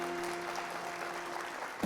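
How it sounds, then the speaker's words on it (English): A lunchtime panel audience applauds the panelists in a dense, steady wash of clapping that holds for the whole span, with a faint electrical hum beneath. "Please give them a big round of applause."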